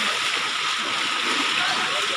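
Strong floodwater rushing through Barangay San Pedro, Duero, Bohol, a steady broadband roar of flowing water, loud and continuous throughout.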